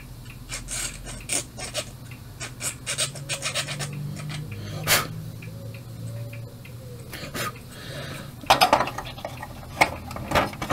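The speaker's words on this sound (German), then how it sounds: "Lieber feile ich was weg." Quick, scratchy rasping comes close up as a file works a small 3D-printed plastic gear for a CD player, in short uneven strokes with clicks and light handling knocks.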